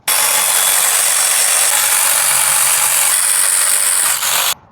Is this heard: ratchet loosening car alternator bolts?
yes